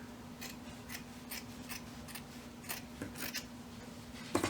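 Scissors trim through layered fabric and batting on a sewn curling iron holder, giving a quiet series of crisp, evenly spaced snips, close and alone, with a louder cut at the end.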